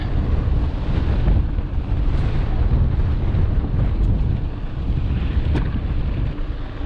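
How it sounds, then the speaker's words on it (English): Strong wind gusts outdoors at Gordon Creek near Price, Utah, buffet a microphone on a mountain-bike ride, making a continuous loud, rumbling roar with no speech. "So windy,"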